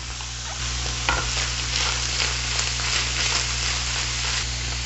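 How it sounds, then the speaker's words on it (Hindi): Finely chopped onion frying in about two teaspoons of hot oil in a pan, a steady, close, dense sizzle that runs evenly through the whole clip with no talking. "साथ ही साथ इसमें हम 1 प्याज को चॉप करके, एकदम फाइन चॉप करके डालेंगे।"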